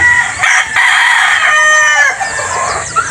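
A gamefowl rooster at a game farm crows loudly and close, one long strained call that trails off, followed by a few softer clucks.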